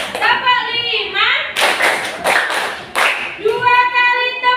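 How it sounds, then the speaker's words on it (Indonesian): Classroom of children clapping hands in a counted sequence of one to five, a teacher's voice leading over repeated sharp claps in bursts, with speech before and after. "Tepuk 1, tepuk 2, tepuk 3, tepuk 4, tepuk 5."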